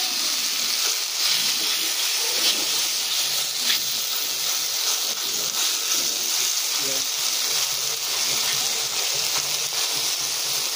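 Chopped onion, garlic and chili frying in hot oil, a steady broadband sizzle and hiss that continues evenly throughout, with a voice talking faintly over it.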